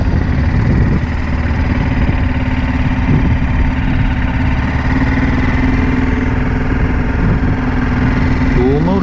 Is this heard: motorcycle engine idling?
yes